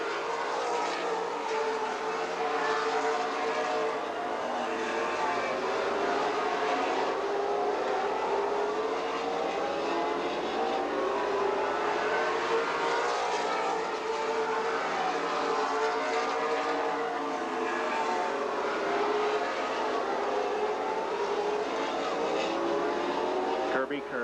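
Race cars in a Wisconsin Challenge Series event at Golden Sands Speedway, their engines droning and swelling continuously as the pack circles, under steady commentary from an announcer.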